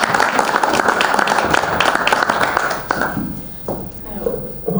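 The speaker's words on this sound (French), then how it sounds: "On peut encore l'applaudir, s'il vous plaît." Applause at a press conference for an international film festival, a crowd clapping loudly and densely before thinning out into scattered claps near the end.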